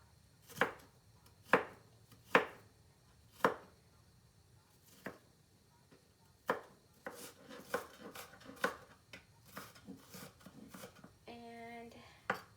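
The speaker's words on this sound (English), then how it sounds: "I'm just dicing it now." A knife dices an onion on a cutting board with a run of sharp, separate chops. They start widely spaced and then come quicker and closer together, ending with a short scraping sound.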